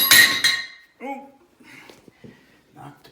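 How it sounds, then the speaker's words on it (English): A metal pipe wrench clatters down near a faucet under repair, giving a sharp clanging impact followed by a few lighter knocks and rattles as it settles, with a voice speaking briefly afterward. "knocked the pipe wrench off."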